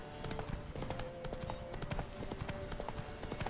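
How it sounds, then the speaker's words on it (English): Roach, Geralt's horse in The Witcher 3: Wild Hunt, trots with steady, crisp clip-clop hoofbeats close up, a continuous rhythmic patter layered over a light ambient game backdrop. "But Roach is a speed demon. Not actually, they're just a horse."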